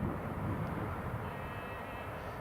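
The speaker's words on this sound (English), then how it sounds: "Air France, cleared to land. Air France Embraer 190." Air France Embraer 190 jet landing at Newcastle International Airport, a steady broadband engine roar that stays loud and even throughout, with no talk.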